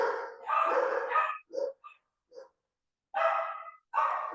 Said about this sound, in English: then we have an eruption of barking here